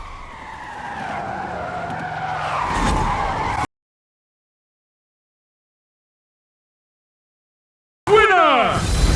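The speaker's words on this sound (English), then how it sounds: "Winning in a Porsche 959 Rally Raid" A Porsche 959 Rally Raid car skidding in a racing video game, a long tire squeal with engine tone for several seconds, then dead silence, then a sharp burst of skidding and engine noise returning at the end.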